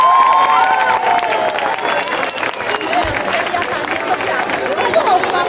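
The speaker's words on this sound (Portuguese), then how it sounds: "Mais aplausos, vamos lá, mais forte, mais forte." An audience applauds a dance performance at a festa junina club event. The clapping is continuous and fairly close, and an announcer urges the crowd on through a microphone over it.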